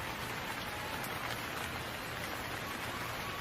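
Steady rain falls in a dense, even hiss that holds at the same level from start to finish, with no voices.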